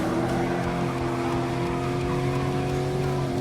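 Chevrolet Camaro Z28 muscle car racing at Willow Springs in Gran Turismo Sport, a steady loud engine drone with sustained tonal harmonics and tire noise, continuous without pause and no voices.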